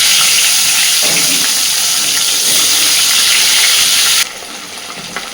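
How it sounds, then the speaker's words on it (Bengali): Fish frying in oil gives a loud, continuous broadband hiss that drops abruptly to a quieter sizzle near the end, with no voices. "বাকি মাছগুলোকেও আমি এরকম করেই ভালোভাবে আগে একটু ভেজে নেব।"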